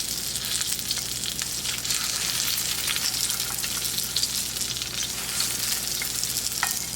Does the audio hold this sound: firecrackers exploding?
no